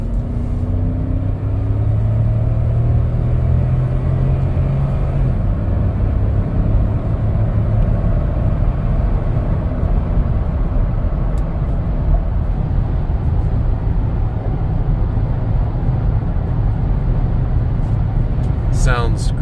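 Interior cabin drone of a 2015 Toyota Land Cruiser 200 Series on Michelin tires at about 80 mph on the highway: a loud, even low rumble of engine, tire and road noise, steady throughout with faint clicks.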